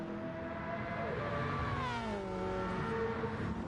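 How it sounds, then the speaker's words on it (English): A Mazda RX-Vision Gr.3 race car in Gran Turismo 7 at the Nürburgring GP, its high-pitched engine note rising and falling through gear changes, steady and fairly loud. "Very distinctive engine sound on the RX Vision. Much more high-pitched."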